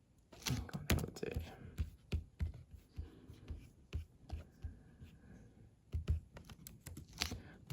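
Keystrokes on a computer keyboard for copy and paste shortcuts while building a WordPress page, scattered clicks and taps in irregular bursts, close and fairly quiet, with faint whispery voice-like sounds in between.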